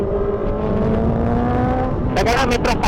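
A motor vehicle engine drones steadily, then a motorcycle roars past with a burst of revving, loud and close, over continuous road noise.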